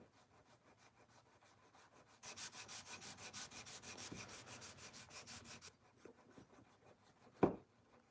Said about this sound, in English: So we're just gonna get this sanded as flat as I can to plastic.